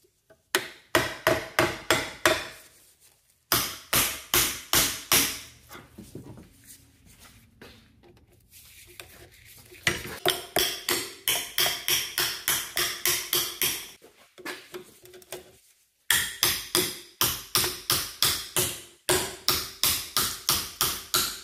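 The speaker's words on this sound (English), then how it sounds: "I'm going to put a screwdriver in between the copper rings and hammer down with a hammer" Repeated hammer blows drive a screwdriver between the copper windings of a fan motor being stripped for scrap, loud sharp metallic strikes in rapid bursts separated by short pauses and a quieter stretch of scraping midway.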